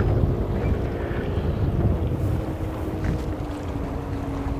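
A motorboat runs wide open about 20 feet from another boat, a loud rumbling engine and water roar mixed with wind buffeting the microphone, steady throughout with no talking.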